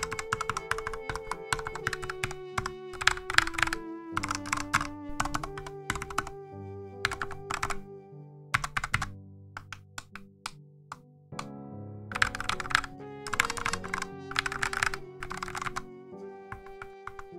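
Arcade buttons clicking on a Korean-made steel hitbox controller, bursts of rapid, crisp, fairly loud taps in clusters separated by short pauses, with a musical tone running underneath.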